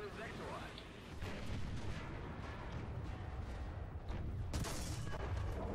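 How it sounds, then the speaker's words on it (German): A Soviet KV tank fires its main gun in War Thunder realistic battles, a single deep boom late on rising over a low, steady rumble of distant battle noise, fairly faint overall. "Ah, das ist der KV, der da schießt mit dem Bordgeschütz"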